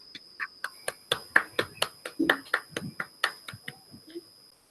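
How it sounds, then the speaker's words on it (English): Applause in an online Toastmasters meeting: a dozen or so sharp, evenly spaced claps from a few participants over a faint steady tone, ending with a soft knock. "So a round of applause for him."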